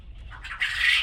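A single short squawk from a bird among laying hens on a farm, close and fairly loud, rising briefly in the evening quiet.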